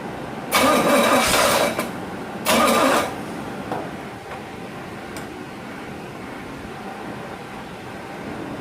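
A Pontiac GTO engine is cranked twice with sharp starter bursts, then catches and settles into a quiet, even idle with faint ticking.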